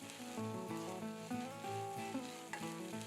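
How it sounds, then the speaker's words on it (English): Chopped green capsicum sautés in a pan after ginger garlic paste has gone in, giving a soft continuous sizzle largely beneath prominent background music. "Saute for a minute."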